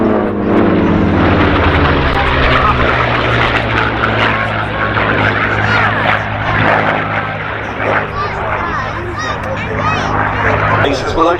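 Propeller engines of a B-17 bomber drone loudly and steadily at an air festival, a thick, continuous roar that stays near and even throughout while crowd chatter and voices carry underneath.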